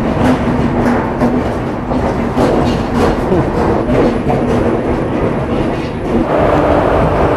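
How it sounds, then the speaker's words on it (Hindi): An intercity express train pulls into a station, steady loud rumble with rhythmic clickety-clack of wheels over rail joints and a faint sustained squeal, no voices. "तो ये हमारी ट्रेन आ चुकी है तिरुवनंतपुरम सेंट्रल तिरुचुपल्ली इंटरसिटी एक्सप्रेस।"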